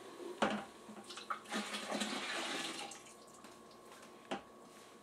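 Melted grated soap poured into a pot of hot water for homemade laundry detergent, a sloshing liquid pour with a couple of sharp clinks at the start and end.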